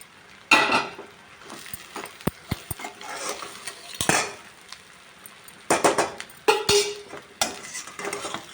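Cooked rice being stirred into fried egg in a pan for egg fried rice: a metal spatula scrapes and clanks against the pan in irregular bursts, with faint sizzling between strokes.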